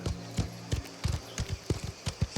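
Horse hooves clip-clop at a steady trot in the Mafia The Old Country game, close and clear, with irregular beats and no voices over them.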